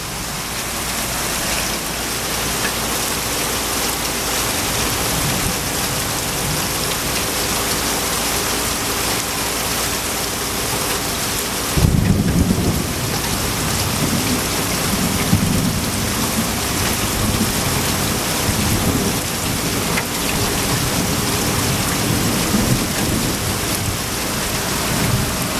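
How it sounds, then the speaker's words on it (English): Heavy East Texas summer thunderstorm: loud, dense rain pouring steadily on surfaces outdoors, with a deep rumble of thunder swelling midway and lingering under the continuous downpour, no voices. "July 8th, and the rain has been hitting us."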